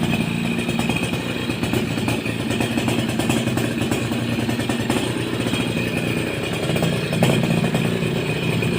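A Suzuki RC100 motorcycle engine idles smoothly and evenly up close, a steady mid-pitched thrum with faint mechanical clatter and no voices.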